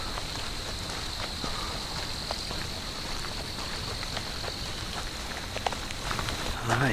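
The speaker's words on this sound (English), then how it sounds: "Starting to hear a few more raindrops fall too" Light rain patters on a wooded lakeside trail, scattered drops ticking faintly against leaves and ground amid soft footsteps and a steady high insect drone.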